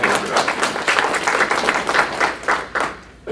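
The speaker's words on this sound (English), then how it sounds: "let's have a round of applause" Audience applause at a breakfast meeting for the Mission Play production, a dense run of many hands clapping that swells and eases slightly over about three seconds, fairly close and steady with no voices standing out.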